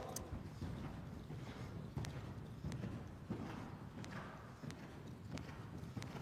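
Hoofbeats of a dressage horse working in shoulder-in in an arena, a steady rhythmic clip-clop of footfalls at moderate distance with faint background noise and no talk.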